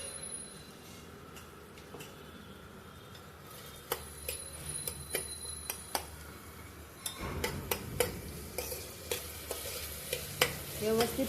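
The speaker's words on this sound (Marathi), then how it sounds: "सगळं व्यवस्थित तेलात परतून घ्यायचं आहे" Ginger-garlic paste and spices sautéing in oil for masale bhat, a steady close sizzle with frequent sharp clicks of a spoon stirring against the pan, the frying growing louder and busier toward the end.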